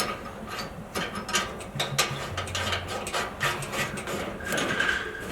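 Close, repeated ratcheting clicks and small metallic mechanism sounds come from screws being turned under the side of a portable propane grill, in uneven bursts with no talk.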